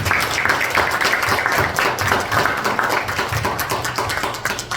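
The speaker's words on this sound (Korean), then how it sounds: "박수 부탁드리겠습니다." An audience at a small literary talk claps together, a dense, steady patter of many hands heard close and fairly loud throughout.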